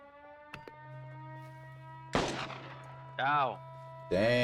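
Gunfire in the Schedule 1 video game: a sharp burst near the middle followed by two louder sustained volleys, heard over a steady electronic hum, with bits of voice.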